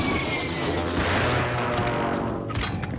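Rapid gunfire from a sniper tower in the shooter game Warzone 3, a dense continuous barrage of shots filling the whole stretch, loud and sustained with no talk over it.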